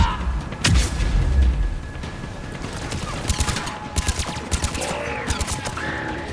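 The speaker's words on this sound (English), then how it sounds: "I'm being shot in the back" Gunfire rattles in the Mass Effect 3 game, a burst of rapid shots near the start followed by scattered sharp cracks and impacts, fairly close and punchy over a low rumbling battle backdrop.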